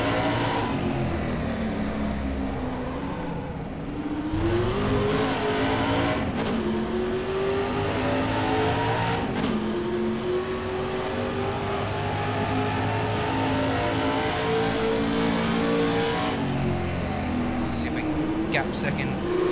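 A touring car engine races around the Adelaide 500 street circuit in rFactor 2, a loud, sustained engine drone rising and falling through gear changes, with someone talking over it.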